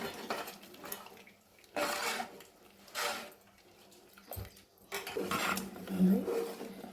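A spoon stirs dal and rice khichdi in a metal pot, with intermittent scraping and clinking bursts between stretches of someone speaking.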